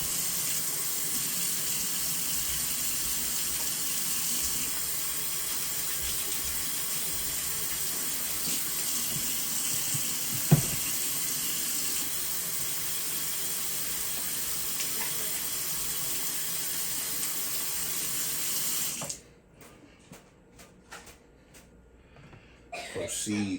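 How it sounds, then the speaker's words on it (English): Water from a tap runs steadily into a sink during handwashing, a constant close rushing stream with a single cough partway through, before the flow shuts off and quieter handling noises follow. "I'm gonna wash my hands"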